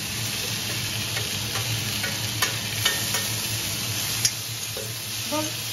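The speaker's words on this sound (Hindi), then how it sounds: "सूखे आलू इस कढ़ाई में छोंक दूंगी मैं" Steady sizzling of potatoes tempering in a hot wok, with occasional light clicks and scrapes from stirring.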